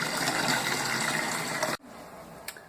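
Water gushes in to top up extract-brewed wort to five gallons in a bitter American homebrew batch. A loud, continuous pouring rush stops abruptly, followed by quieter drips and a small knock.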